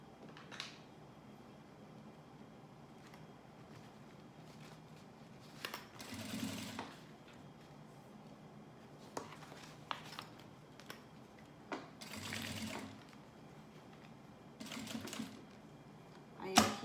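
A domestic sewing machine stitches a zippered mask holder in short, intermittent runs separated by quiet pauses while fabric is handled. The whirring bursts are moderately loud and close by.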